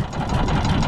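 A small engine runs steadily after being restarted, having stalled because it was clogged with dirt. It gives a brief, even idling rumble close by.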